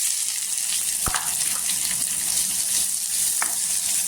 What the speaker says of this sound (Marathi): कांदा छान असा गोल्डन कलरवर छान असा परतून घ्यायचा तेलावर